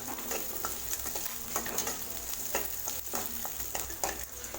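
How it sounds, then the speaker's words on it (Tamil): Ginger and garlic sautéing in a pan for garlic rice give a steady sizzle broken by rhythmic scraping stirs, close and moderately loud, with no one talking. "பாருங்கள் இஞ்சி சேர்த்து நல்லா வதக்கிட்டேன்"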